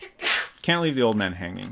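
A single sharp sneeze bursts out near the mic, followed right after by someone talking.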